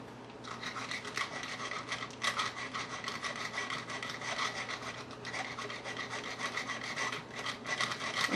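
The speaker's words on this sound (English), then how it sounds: "And then I'll just give this a light sand, and then it's ready to paint." A resin piece is lightly sanded with quick, rhythmic rubbing strokes, close and steady, with brief gaps between passes.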